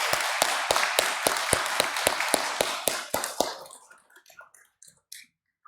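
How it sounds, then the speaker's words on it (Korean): Church congregation at a Korean afternoon worship service claps together in a steady, evenly spaced rhythm, then the beat breaks into scattered, fading claps before falling quiet. "우리 박수로 한번 우리 격려하도록 하겠습니다."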